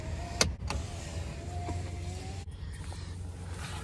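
A car's electric power window hums closed in a steady motor whine from inside the vehicle, with a couple of sharp clicks at the start and a soft thump partway through over low street rumble.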